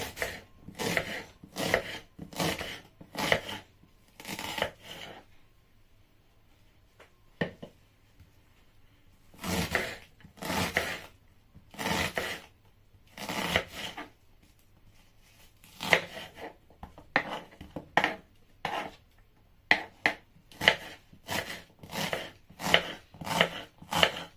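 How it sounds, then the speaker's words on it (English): A knife chopping onions on a cutting board in bursts of rapid, crisp taps, pausing now and then before resuming, close up. "first thing I'm going to do, I'm going to cut my onions."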